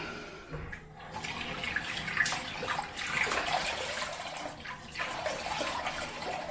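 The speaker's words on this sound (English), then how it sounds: "hot water rinse first" Hot water runs steadily from a tap with a soft, hissing splash, continuous and close for several seconds with no talking.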